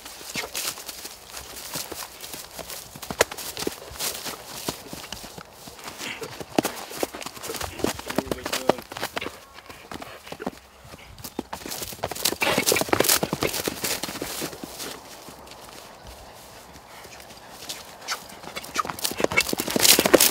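An Arab-like horse's hooves clip-clop in a quick, steady rhythm at moderate distance, growing louder toward the end, with faint background noise and no talking.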